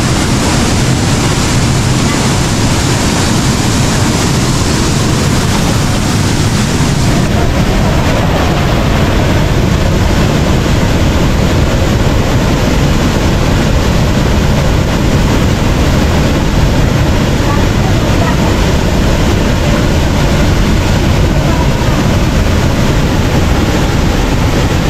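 A small waterfall forms between rocks at Salto de las Pavas in Norcasia, Colombia, a loud, constant broadband rush of water with wind buffeting, steady for the whole stretch.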